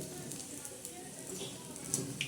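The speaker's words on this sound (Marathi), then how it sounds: "हे पहा कसे खळाखळा व उकळत आहे तेल" Crispy moong dal bhaji fritters fry in bubbling hot oil, giving a steady, soft sizzle with small crackles and pops throughout.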